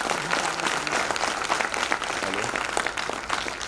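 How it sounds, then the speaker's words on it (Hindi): A seated audience at a motivational business training program claps for the MD and CMD, giving steady, dense applause that fills the room without pause. "तो एक बार जोरदार क्लैपिंग एमडी और सीएमडी सर के लिए"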